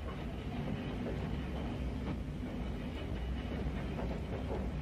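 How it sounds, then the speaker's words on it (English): A passenger train on the Central Wales line crossing the castellated Knucklas Viaduct, heard as a steady, moderately distant rumble and roar with faint rhythmic wheel clatter throughout. "The train passes over one of the best-known features of the line, Nuclis Viaduct, with its castellated embellishments"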